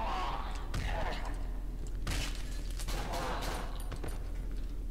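Shotgun blasts ring out in the horror game Cry of Fear: a few separate sharp booms, spaced out across the clip, under a constant background noise bed.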